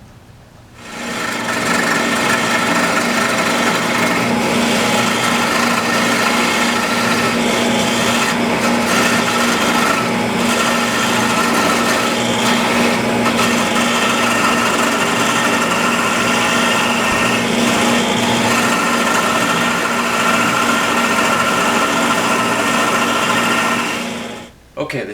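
A wood lathe spins a straight wooden spindle, its loud, continuous whirring drone holding steady and close for more than twenty seconds before cutting off at the end.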